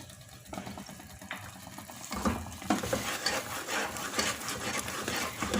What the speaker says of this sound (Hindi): बस यहीं पे इसका असल मेहनत का काम है कि आप इसमें मुसलसल चम्मच चलाएं